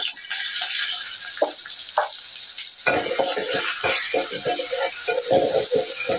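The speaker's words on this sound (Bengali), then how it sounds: "পেঁয়াজটা আমি ভালো করে ভেজে নিব" Chopped onions frying in hot oil, a continuous bright sizzle with a burst of loud stirring and scraping in the pan partway through, close and unaccompanied by talk.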